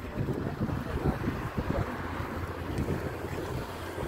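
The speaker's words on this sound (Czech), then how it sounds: "Hezky nám fouká od moře" Wind blowing in from the sea near Babadag above Ölüdeniz, a continuous rough buffeting rush with gusty swells on the microphone, no voices present.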